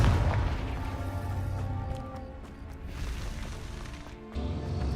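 A Confringo blasting spell exploding in the game Hogwarts Legacy, heard as a heavy boom up front that trails into a rumbling decay, with a second impact landing near the end.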